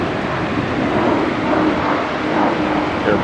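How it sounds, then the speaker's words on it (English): A steady, broad roar of an airplane passing overhead, loud and continuous throughout. "Airplane."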